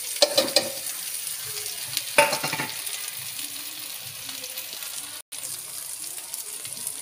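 Carrots for carrot pickle frying lightly in a pan, a steady soft sizzle with a few scraping stirs near the start and around two seconds, no talking.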